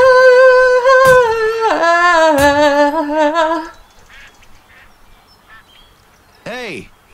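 Loud, drawn-out duck calls with stepped honking notes fill the first few seconds at a duck hunt, then fade into quiet outdoor background with one short, falling call near the end.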